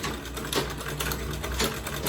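A sewing machine stitches through Ankara fabric and a leather bag panel with a fast, steady mechanical whirring chatter, close and continuous, with no voices.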